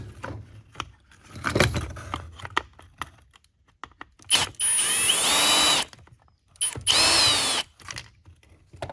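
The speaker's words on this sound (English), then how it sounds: "Undo these screws." A power drill undoes screws on a Black and Decker 20V cordless trimmer, with two sustained whirring runs of about a second each between scattered clicks and handling knocks from the tool and plastic housing.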